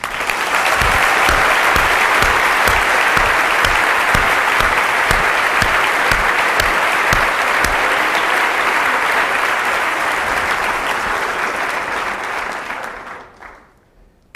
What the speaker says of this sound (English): I think you deserve a second round of applause